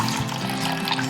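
Tap water runs into a container of squeezed daikon liquid, a steady close pouring and trickling stream with a faint hum beneath, no voices.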